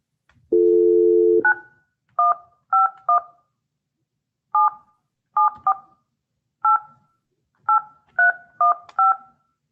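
Telephone line tones: a steady dial tone, then a string of short touch-tone dialing beeps in irregular groups, clear and close with no voices.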